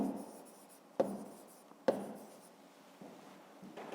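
A pen scratches out numbers for a fifth-grade math exercise, a steady soft scribble with two sharp taps as strokes land, close and quiet with no talk.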